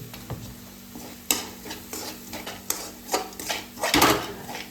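A spoon stirs and scrapes food in a metal pan after salt and a little sugar go in, making repeated clattering scrapes and clinks over a light sizzle, close and fairly loud.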